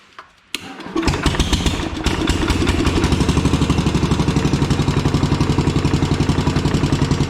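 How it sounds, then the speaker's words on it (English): A Kohler engine on a Minneapolis Moline 114 Hydro tractor, with corroded points, cranks and catches after a sharp click, then runs with a loud, rapid, even chugging idle close by. "No choke. I'll give it a little bit of choke."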